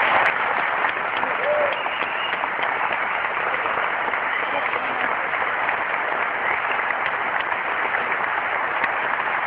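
An audience at a literary reading in Bilbao gives a continuous, dense round of applause, steady and fairly loud from start to finish with no pauses.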